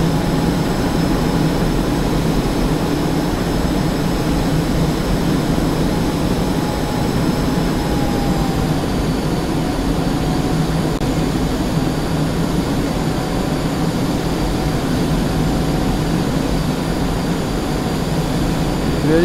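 Cockpit engine drone of an F-5E jet in the DCS flight simulator: a steady, loud, unbroken roar with a faint high whine sliding slightly partway through, no talking.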